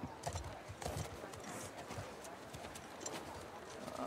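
Horse hooves clip-clop steadily in The Last of Us Part II, a rhythmic run of hoofbeats on the ground, fairly close, with faint ambient game sound behind and no talk.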